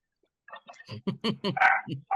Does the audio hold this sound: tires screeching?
no